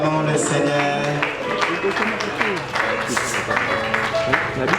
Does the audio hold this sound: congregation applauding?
yes